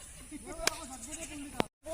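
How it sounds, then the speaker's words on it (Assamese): A goat bleats outdoors during a lockdown day in a village in Assam, a long wavering cry running through most of the moment, broken by two sharp clicks and a brief dropout near the end. "ছাগলীটো"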